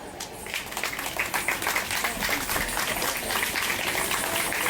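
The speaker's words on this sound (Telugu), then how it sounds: "మా మ్యామ్ కోసం ప్లీజ్ గట్టిగా చప్పట్లు కొట్టారు, మా అందరి కోసం కొట్టారు" A seated crowd applauds the Kuchipudi dance teacher at a Ganesh festival temple park event, with clapping that starts thin, swells into steady dense applause and holds loud to the end.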